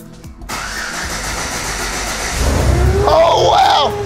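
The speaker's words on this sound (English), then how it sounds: "Oh wow, you hear that engine?" A truck engine cranks and catches, settling into a close, loud running note that swells into a brief rising rev near the end.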